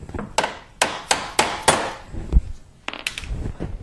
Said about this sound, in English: we're just going to hammer that pin right through.